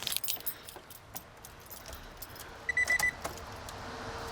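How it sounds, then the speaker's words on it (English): A key turns in the ignition of a Honda Civic VTEC that has a fuse-blowing fault, with keys jangling softly, then a short electronic chime sounding near the three-second mark. The sounds are close, fairly quiet, and no one speaks. "Right, ignition is on."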